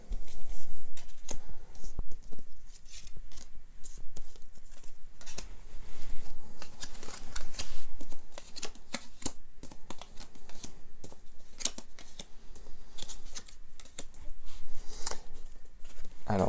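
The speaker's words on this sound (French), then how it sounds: "moi d'abord je tire les cartes et ensuite je parle." Tarot cards being shuffled and drawn, a run of close, crisp slaps, flicks and papery rustles in irregular bursts, with someone speaking over them at times.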